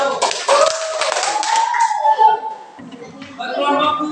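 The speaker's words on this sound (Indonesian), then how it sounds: "Tepuk tangan buat kelompok 1." Group of schoolchildren clapping for a classroom group, a short burst of close, rapid hand claps followed by overlapping voices and chatter.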